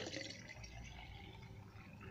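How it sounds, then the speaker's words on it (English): Alkaline booster juice is poured from a bowl into a jar, giving a soft, continuous trickling and gurgling close by and fairly quiet, with no talk. "this, let me pour it into the bowl, into the jar"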